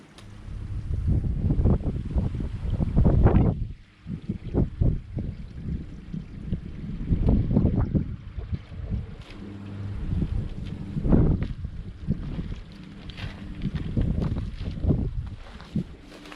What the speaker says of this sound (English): Still a bit windy here.